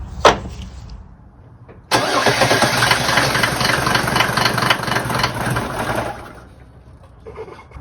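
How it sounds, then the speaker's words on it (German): A Mercedes W124 300TD diesel engine is cranked after a fuel filter change. A brief sharp burst comes first, then a pause, then the engine catches and runs with a loud, rough clatter for about four seconds before it dies away. "Jetzt gucken wir, ob der Motor anspringt."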